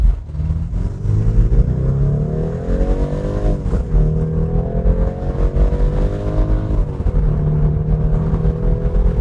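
A BMW 4 Series convertible with a 48V mild-hybrid engine, in Sport Plus mode with the roof open, accelerates hard toward 100 km/h: a loud, sustained engine roar climbs in pitch, dips at a gear change, then climbs again.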